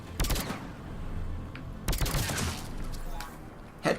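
Weapon fire in the video game Mass Effect 3 during a fight at a Cerberus base, two sharp bursts of shots about two seconds apart over a low rumbling game background.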